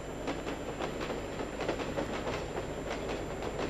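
A train rolls past nearby, its steady broadband rumble and repeated wheel clicks filling the whole stretch at an even level, with no voices over it.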